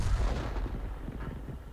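Artillery fire from a 105 leFH18B2 self-propelled gun in a tank battle video game, a dense low boom with rumbling tail that stays loud and steady through the short stretch, no talk.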